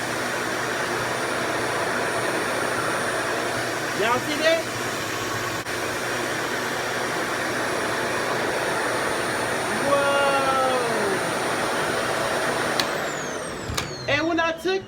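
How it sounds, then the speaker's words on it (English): A RevAir hair dryer runs continuously, a steady loud whooshing suction drone like a vacuum cleaner as it pulls in and dries natural hair, while someone speaks briefly over it. "It sucks my hair like a vacuum cleaner."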